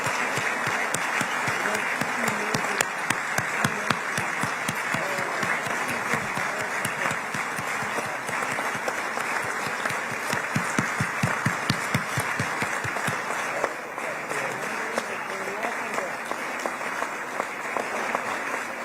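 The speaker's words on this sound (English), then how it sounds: "lots of clapping" An audience at a political event, where a Gaza deal is signed in Egypt, keeps up sustained applause, a dense, even wash of many hands clapping for almost nineteen seconds, full and close.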